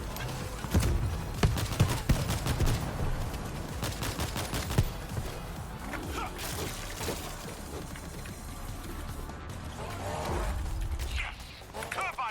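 Mortar rounds firing and impacting in World War Z on the Jerusalem chapter, repeated heavy bursts amid chaotic gunfire and game noise, with voices talking over the action.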